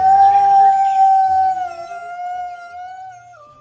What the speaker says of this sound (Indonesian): ini ada serigala